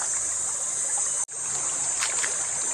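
River water rushes steadily over slippery rocks while someone wades through it, a loud, close, unbroken hiss that drops out for a split second midway before resuming.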